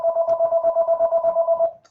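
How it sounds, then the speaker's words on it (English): A phone rings nearby with a rapid trilling electronic warble in quick repeated pulses, then stops abruptly, with no one talking over it. "my phone is ringing"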